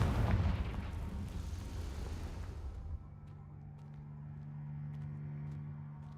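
A Confringo fire spell explodes in Hogwarts Legacy, a loud rumbling blast that fills the first three seconds and then falls to a low steady hum with a few faint ticks.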